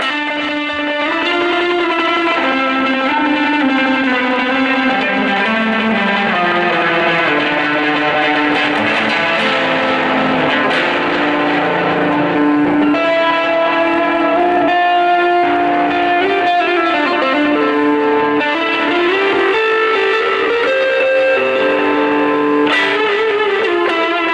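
Electric guitar played through a BOSS DD-6 digital delay pedal with distortion, sustained overdriven notes trailing into layered spacey repeats and odd swelling textures, loud and continuous without talking.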